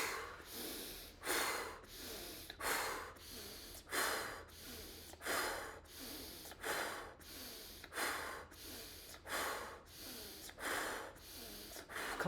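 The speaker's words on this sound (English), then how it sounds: "So let's start with some bellow breathing." Rapid, forceful breaths in a bellows breathing exercise, sharp rhythmic sniffs and exhales repeating about every half second to second, close and loud, with no talking.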